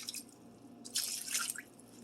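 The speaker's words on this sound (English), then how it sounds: "Let's go ahead and add in the water." Cold water pours into a roasting pan holding a whole chicken, a faint close trickle and splash that swells briefly in the middle before tapering off.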